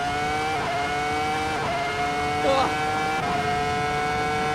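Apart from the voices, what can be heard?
formula race car engine in video game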